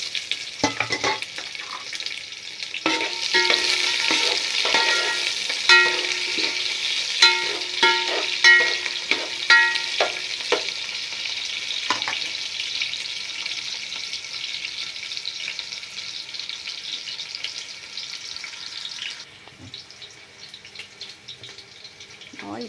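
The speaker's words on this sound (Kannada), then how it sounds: "ಇವಾಗ ಆನಿಯನ್ ಕಟ್ ಮಾಡ್ಕೊಂಡಿದ್ದೀವಲ್ವ ಅದನ್ನು ಹಾಕ್ತಾಯಿದ್ದೀವಿ" Chopped onion sizzles steadily in hot oil with spices for chicken biryani, a continuous bright frying hiss with intermittent stirring scrapes, the sizzle dropping off sharply near the end.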